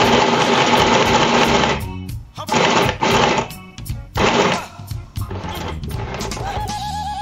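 A sewing machine stitches a straight seam, running in close, steady rapid bursts broken by short pauses as the fabric is adjusted and the stitching backs up to secure it.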